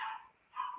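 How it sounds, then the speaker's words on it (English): A puppy lets out two short, high yips some distance off, faint and apart from any talk. "apologies for the puppy barking in the background"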